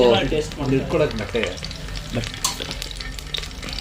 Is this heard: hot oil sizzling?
yes